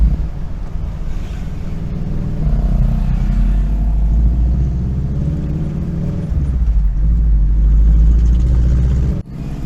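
A lifted, modified Daihatsu Feroza driving on roads in Bali, with a loud, steady low engine drone and heavy wind buffeting throughout that cuts off abruptly near the end.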